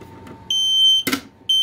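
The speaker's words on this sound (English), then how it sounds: "Fire alarm horn strobe" A loud electronic fire alarm horn strobe on a demo board sounds in steady tonal bursts, interrupted by a brief harsh blast, close and piercing.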